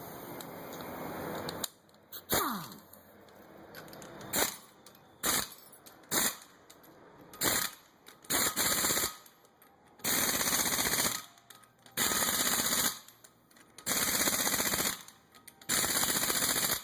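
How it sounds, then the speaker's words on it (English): An impact gun fitted with a torque stick hammers wheel lug nuts in a series of loud, rattling bursts, about a dozen separated by short pauses, each burst a rapid clatter. "Using a torque stick, it's calibrated with your gun once you do a little setup to be the proper torque"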